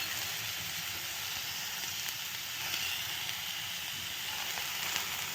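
Oil sizzles steadily on thin potato slices spread in a pan, a constant close frying hiss with faint crackles and no voices.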